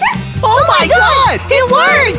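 A cartoon puppy gives a few high, bouncy yips and bow-wows, close and loud, overlapping excited animated voices speaking.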